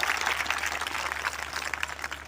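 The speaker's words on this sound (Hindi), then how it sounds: "जोरदार तालियां बजाकर बता सकते" Audience applause at a school event where laptops and supplies are handed out: a dense, fairly faint wash of many hands clapping continuously for a couple of seconds, without voices on top.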